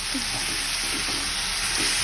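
Cashews and halved tomatoes frying in a pan for paneer butter masala, with a dense constant sizzle and soft stirring scrapes close by and no talking.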